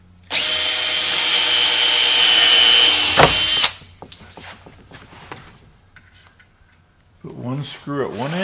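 Loud power drill drives a screw into the fence of a woodworking crosscut sled in one steady burst of about three seconds, then stops, followed by light handling clatter and a person talking near the end.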